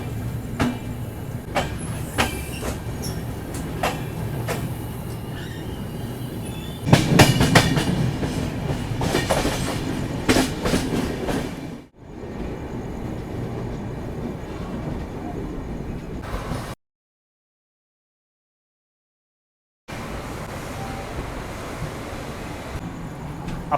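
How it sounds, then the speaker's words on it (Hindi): Goa Rajdhani Express (22414 Madgaon Rajdhani, Delhi to Goa) pulling out of Vasai Road station, heard from onboard a 3AC coach: steady rumble with rhythmic clicks of wheels over rail joints, a louder passage midway, then a cut to silence before the rumbling resumes. "5 मिनट का हॉल्ट लेने के बाद हमारा डिपार्चर हो चुका है वसई रोड रेलवे स्टेशन से।"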